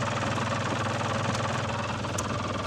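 A 2000 Aprilia RS250 MK2 Harada Replica two-stroke motorcycle engine runs at high revs, a steady, loud, buzzing drone held close for the whole short stretch without talk.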